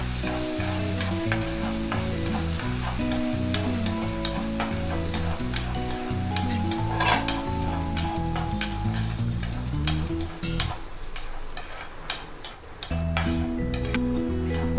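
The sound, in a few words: moong dal roasting and being stirred in ghee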